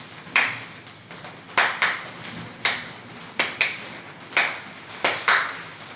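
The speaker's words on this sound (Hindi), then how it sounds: "जैसे कि मैं यहाँ पर ताली बजाऊंगा तो उन्हें बताना है कि मैंने किस प्रकार से ताली बजाई" Hand claps in a rhythmic pattern, loud and close, with pairs and single claps spaced by short pauses, each one crisp and ringing briefly in a quiet room.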